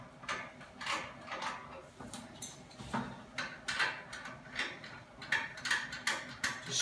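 A ratchet tightens the nut on a toilet flange bolt in small increments, giving a quiet run of clicking pawl ratchets in short bursts, close and fairly faint, with no talking.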